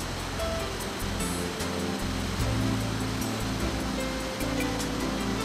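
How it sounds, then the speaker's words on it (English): A waterfall in Norway's mountains, water cascading hundreds of feet, gives a steady, dense, loud roar that continues without a break and with no voices. "As usual, there are the iconic waterfalls that are nothing short of spectacular."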